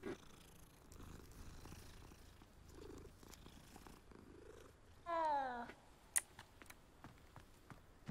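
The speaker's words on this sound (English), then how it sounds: "It's a cute cat." A cat in the Hogwarts Legacy video game purrs softly and steadily at low volume, with a short, louder warbling trill partway through and a few faint background game sounds.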